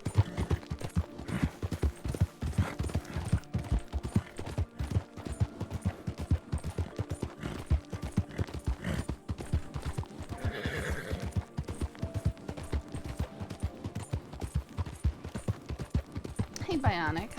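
A horse in the video game RedM gallops with rapid, steady clip-clop hoofbeats throughout and lets out a neigh partway through, while a person talks over the game sound.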